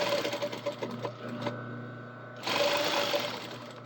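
A sewing machine stitches down a belt loop in a rapid, close mechanical whir that eases briefly and then picks back up at full speed.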